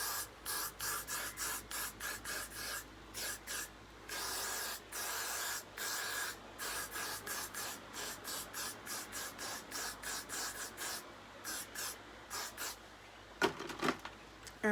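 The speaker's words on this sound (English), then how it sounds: "I'm just gonna spray down the hairline." Short hissing bursts of adhesive spray on a wig hairline repeat rapidly and rhythmically, close and fairly quiet, dozens of quick pumps in a steady pattern.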